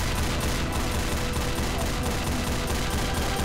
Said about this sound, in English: I got the big machine gun